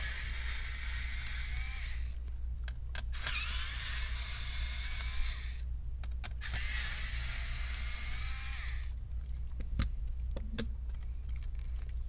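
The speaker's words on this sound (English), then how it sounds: "Once that 3 screws is removed, the CPU fan will just come right out" Screws come out of the CPU fan inside an HP 15 DY1059 laptop during a teardown, giving two short bursts of small whirring driver noise separated by faint clicks and pauses, close up and alone.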